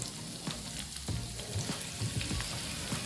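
Tomatoes dropped into onions frying in a pan for egg masala curry, giving a dense continuous sizzle with a few stirring knocks, close and fairly loud, with no voices.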